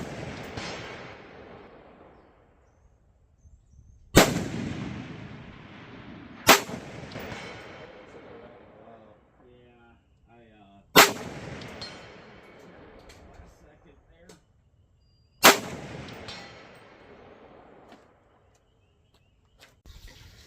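Four loud 7.62x39 rifle shots from a lightweight six-pound rifle resting on a tripod with a swiveling saddle outdoors, each a sharp crack with a long decaying echo, spaced several seconds apart, with someone talking between them.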